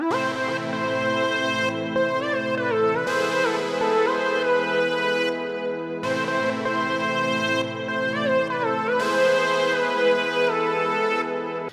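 A simple, sad-sounding melodic lead for a hip hop track plays over sustained chords, a steady, loud, sustained instrumental passage with no voices.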